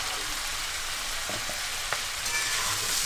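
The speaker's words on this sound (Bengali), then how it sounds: "এবার মশলাগুলো আলু পেঁয়াজ টমেটো লঙ্কার সাথে খুব ভালো করে কষে নেব" Spices frying with potato, onion, tomato and chilli for Bengali Tengra fish jhal give a dense, even sizzle up close, with a few faint stirring scrapes.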